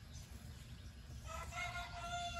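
Chickens near a garden call faintly in the background, a low, uneven clucking murmur joined midway by a thin, drawn-out crowing note that carries on to the end.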